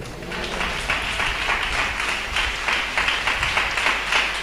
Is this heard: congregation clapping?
yes